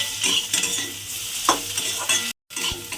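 Pointed gourd mixture with fried egg being stirred in a frying pan, a spoon scraping and turning the food over a steady close sizzle, with a brief silent gap near the end.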